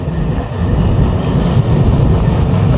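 The Sundarban Express rolls along on a Bangladeshi rail line between Faridpur and Rajbari, a heavy continuous low rumble of wheels and carriage with steady broadband roar, heard from inside the moving train.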